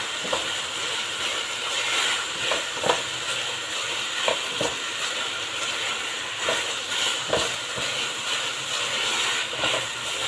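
Pork stir-fries with Thai basil in a hot pan, a steady close sizzle and hiss broken by repeated clinks and scrapes of a utensil against the pan, with no talking.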